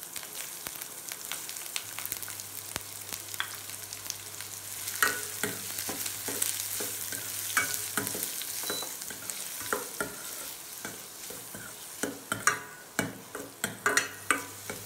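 Onion sizzling and frying in a pan with crackling mustard seeds and curry leaves for Indori poha, a steady sizzle with stirring clatters and scrapes growing denser near the end.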